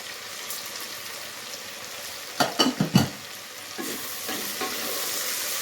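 Tomatoes sautéing with salt in a pan for a tamarind curry, a steady close sizzle broken by a few sharp scraping stirs of a spoon near the middle.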